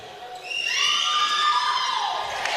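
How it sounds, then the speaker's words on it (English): A home crowd cheers and shouts loudly at a high school basketball game for Pacifica Christian, a sustained roar of many voices with high-pitched yelling that swells and holds steady throughout. "Love hearing the enthusiasm from the crowd here. A home crowd for Pacifica Christian High School."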